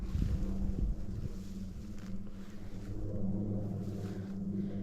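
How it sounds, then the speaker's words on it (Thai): Cold wind blowing steadily through a forest, a low continuous rushing and buffeting that swells and eases, fairly loud and close with no voices. "อากาศมันเริ่มลม ลมเย็น ลมหนาวมาแล้ว"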